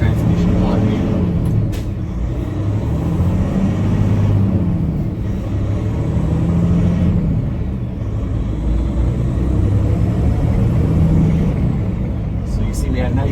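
A 2025 Peterbilt 567 day cab with a Paccar TX-12 automated transmission pulls away smoothly, its low engine rumble steady and rising gently through the ride, heard from inside the cab under ongoing talk.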